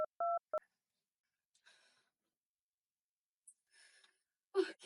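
A telephone dials the police department with three short touch-tone beeps, followed by faint breathy noises and a brief rustle in an otherwise quiet room.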